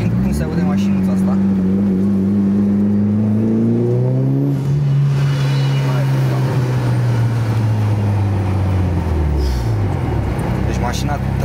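Mitsubishi Lancer Evolution 9 engine revving loudly and close, its pitch climbing in steps, holding, then dropping away, with a steady rumble throughout.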